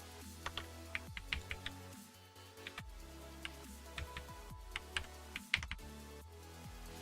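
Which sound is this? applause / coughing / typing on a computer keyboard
typing on a computer keyboard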